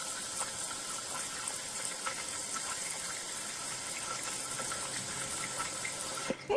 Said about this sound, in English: you need to squeeze them underneath water and they will expand and about double in size